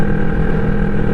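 Engines of passing motorcycles on a road ride drone loudly and steadily in one continuous, close, rumbling pass, with no voices.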